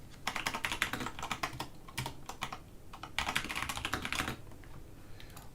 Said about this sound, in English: I apologize if my keyboard is loud.